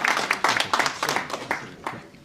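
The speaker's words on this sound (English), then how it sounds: "Can we have a round of applause?" A brief round of clapping from a small audience at a student presentation on Muslim personal law, with sharp, scattered claps close by that thin out and fade over a couple of seconds.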